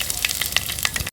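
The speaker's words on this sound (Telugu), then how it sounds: "ఆయిల్ బాగా హీట్ ఎక్కిన తర్వాత ఉద్దిపప్పు, ఆవాలు, జీలకర్ర వేసుకుందాం" Urad dal, mustard seeds and cumin hitting hot oil, a brief close crackle with quick popping bursts before a sudden cutoff.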